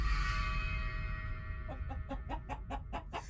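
A chicken clucks in the horror version of Subway Surfers, giving a short run of rhythmic, evenly spaced clucks that follow a sustained tonal game sound.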